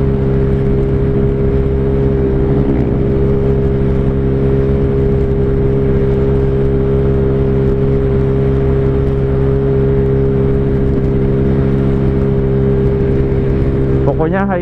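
Yamaha Mio 155cc scooter held at full throttle at high speed, a loud, steady engine whine and drone close to the microphone throughout, with a brief rising rev near the end.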